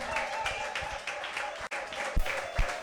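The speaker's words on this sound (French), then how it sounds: "acclamez le Seigneur très, très, très, très fort" Congregation at a church service clapping loudly and rhythmically in praise, a dense steady wash of hands with a brief dropout midway, music or voices faint underneath.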